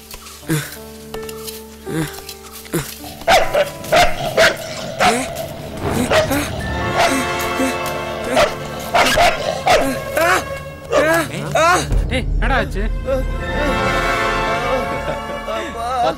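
A dog barking repeatedly in loud, sharp bursts, up close, mixed with yips and excited shouting from several people in an outdoor scene.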